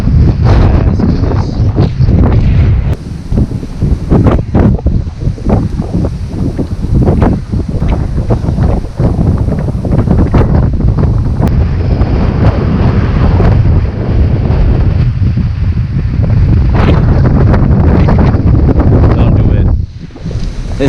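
Strong wind roars and buffets the microphone continuously near an abandoned boat harbor by the water, loud and steady throughout with a brief drop near the end, faint voices beneath.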